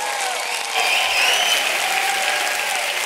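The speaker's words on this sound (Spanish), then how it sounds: "¡Fuerte aplauso para Toni Cruz!" A studio audience at a Spanish comedy show applauds Toni Cruz, a full, steady burst of clapping that swells slightly and carries on evenly without speech.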